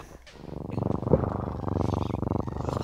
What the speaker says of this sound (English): I'm hearing Enderman's cat.